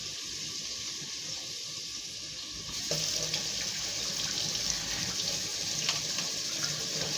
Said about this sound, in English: Then let me get my hands washed.